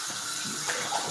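Water runs steadily into a kitchen sink while dishes are washed, a continuous close splashing stream with small clinks and bumps and no talking.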